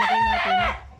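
Chickens calling near a hen on a small poultry farm, a loud, close rooster-like crow with harmonic clucking tones that fades toward the end.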